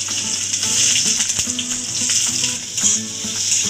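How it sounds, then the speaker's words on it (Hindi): Chopped onion frying in hot oil in an iron kadai, a steady bright sizzle with a few stirring clatters, close and continuous throughout. "फ्रेंड्स, ऑयल गरम हो चुका है, अब सबसे पहले हमने जो बड़ा प्याज काटा हुआ था वो डाल देंगे।"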